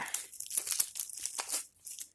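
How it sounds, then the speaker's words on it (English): Crinkly tearing and crumpling of a soft, papery insulation blanket for a hot water cylinder being cut with sharp scissors, several quick snips and rustles in close succession, fairly quiet and close by. "a pair of sharp scissors"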